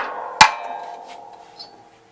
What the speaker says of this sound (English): Let's take it out and see what it does with the hammer now.